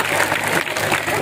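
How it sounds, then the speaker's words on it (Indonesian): Applause from the audience at an Isra Mi'raj religious gathering in Kajen, Pekalongan: dense, steady clapping filling the whole moment, loud and close, with faint voices mixed underneath. "Tepuk tangan dulu."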